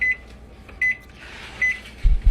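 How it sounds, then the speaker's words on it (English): A microwave oven heating Sour Patch Kids hums steadily while three short, evenly spaced beeps sound, followed by a couple of low thuds at the end. "We're gonna place them in the microwave."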